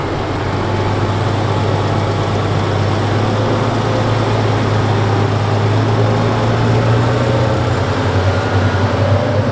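A tractor's heavy MAN diesel engine drones steadily and loudly at close range as it pulls away from a field headland, a deep continuous rumble with no voices.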